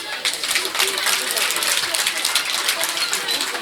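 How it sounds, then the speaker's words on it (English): Audience claps for two school debate teams after a heated debate, a dense, steady patter of many hands lasting throughout at moderate loudness, with voices mixed in underneath. "Clap for the teams."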